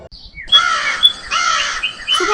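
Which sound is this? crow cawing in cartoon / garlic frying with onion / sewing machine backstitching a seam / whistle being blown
crow cawing in cartoon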